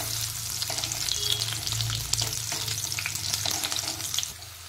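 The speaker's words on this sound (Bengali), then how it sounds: "দিয়ে দেব একটা মিডিয়াম সাইজের পেঁয়াজ কুচনো দিয়ে পেঁয়াজটা আমি লাল করে ভেজে নেব" Finely chopped medium onion frying in hot oil with small mustard seeds, a close, steady sizzle with light crackles and occasional stirring, no talking.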